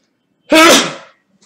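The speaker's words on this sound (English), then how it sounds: "Excuse me, I have to sneeze again." A single loud, explosive sneeze from a chess commentator during a live broadcast, close to the microphone and heard alone, with near silence before and after.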